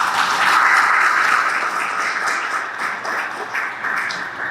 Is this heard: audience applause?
yes